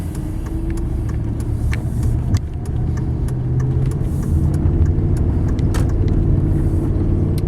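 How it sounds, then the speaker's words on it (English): Steady engine rumble from inside a moving 2003 Dodge Ram 1500 quad cab pickup, with a brief change in tone as the transmission shifts, then smooth cruising. "The transmission shifts real smooth."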